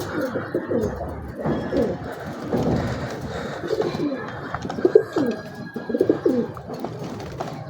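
A male Kasuri pigeon and its paired female coo close by in low, bubbling, repeated phrases that swell and fade, with handling noise and a faint background hum.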